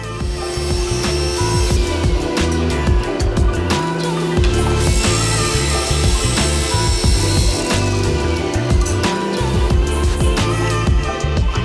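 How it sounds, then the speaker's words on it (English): A power saw cuts scrap poplar lumber to size in a woodworking shop, giving a loud, continuous motor whine with grinding, shifting cutting noise through the whole stretch. "I'm gonna go ahead and start cutting all this lumber down to size"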